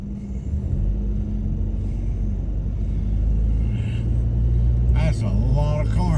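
A steady low rumble of car engines fills the air as traffic moves through a neighborhood at night, holding even and close, with a brief voice near the end.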